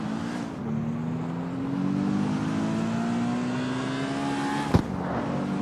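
A sports car engine in the video game CarX Street revs steadily, its pitch climbing slowly with a brief sharp blip near the end, loud and close with no talking.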